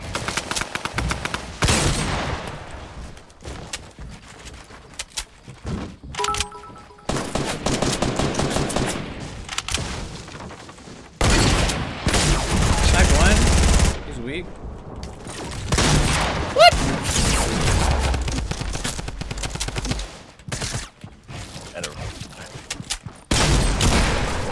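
Gunfire in the video game Fortnite, bursts of shots and rapid fusillades that come and go across the fight, loud and close, with brief pauses between volleys.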